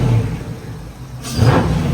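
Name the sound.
Dodge Charger Scat Pack engine revving with K&N cold air intake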